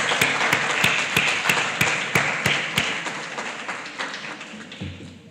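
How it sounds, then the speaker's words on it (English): Applause from an audience at a Grade 7 primary school prize giving ceremony honouring a dance award winner, a steady wash of many hands with a few sharper nearby claps, slowly fading over several seconds. "Let's give her a round of applause"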